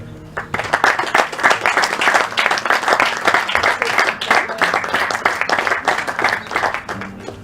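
Sustained loud applause from many hands at a high school graduation certificate ceremony, a dense clatter of clapping that keeps a steady level from start to finish.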